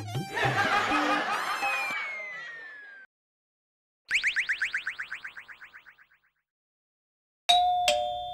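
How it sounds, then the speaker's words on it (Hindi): An electronic doorbell chimes repeatedly in bursts: a long jangling melodic ring, then a descending series of rapid chirping tones, then a final bright ding after a pause, loud and alone without talk. "मैं इतनी देर से डोरबेल बजा रहा हूं"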